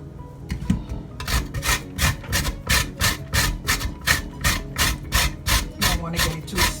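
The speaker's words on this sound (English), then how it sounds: "Now I'm gonna shred my carrots" Carrots are shredded by hand on a box grater, a close, rhythmic series of raspy scraping strokes, each downward pass a distinct burst, roughly two per second and steady.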